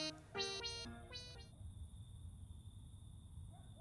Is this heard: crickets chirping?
yes